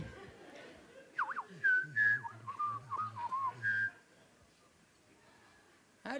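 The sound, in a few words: person whistling, imitating a bird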